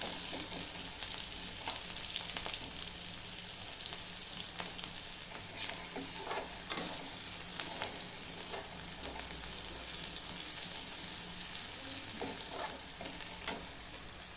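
Tempered rice (phodnicha bhat) frying in oil in a pan, a steady sizzle with scattered stirring scrapes and clinks throughout, close and moderately loud with no talking.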